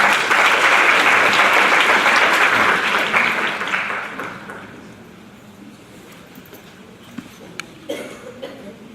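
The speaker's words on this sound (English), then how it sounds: "Big round of applause for Dr. Nandini." Audience applause for a speaker at a Hindu women conference, a loud sustained crowd clapping that fades after about four seconds into quiet room noise with a few coughs.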